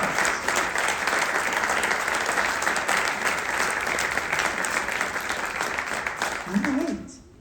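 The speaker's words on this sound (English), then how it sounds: "a round of applause for our seamstresses and the 2026 Royal Court" Audience applause fills a Tulip Queen royalty party honoring seamstresses and the 2026 royal court, a dense, steady wash of clapping that carries loud and unbroken for about seven seconds before quickly fading, with a voice starting up at the end.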